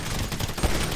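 Gunfire in Grand Theft Auto V Online, a dense, loud burst of rapid shots filling the whole brief moment.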